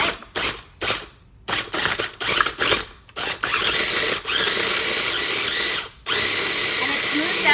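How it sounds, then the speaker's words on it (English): A blender pulses frozen banana into nice cream, loud whirring bursts that start and stop in short rapid pulses, then run longer in sustained stretches with brief pauses between. "So you just grind it up a little bit, pulse it."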